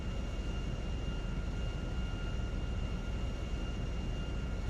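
An airplane in GTA V descends over the runway threshold for landing, a steady broadband engine drone with a faint high whine, constant and close.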